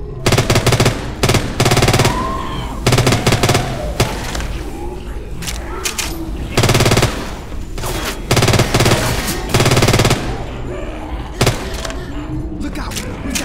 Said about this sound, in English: I'm gonna try the sniper rifle.